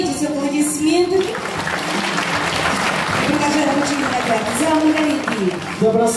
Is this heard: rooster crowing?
no